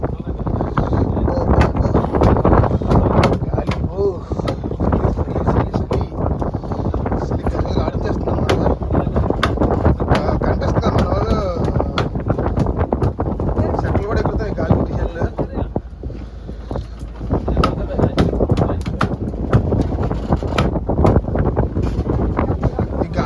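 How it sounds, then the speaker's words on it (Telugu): Strong wind buffeting the microphone in continuous heavy gusts, a loud rushing roar that barely lets up, with faint voices underneath. "గాలి మాత్రం మామూలుగా లేదు"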